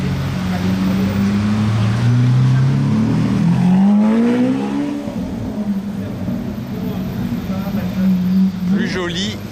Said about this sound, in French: C'est une RS3 le bruit là si vous vous posez la question.